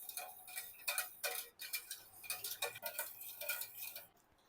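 Ghee and cardamom powder being stirred into hot sugar syrup in a pot, giving a steady run of quick ticking scrapes and clinks of a spoon against metal, close and fairly quiet, with no talking.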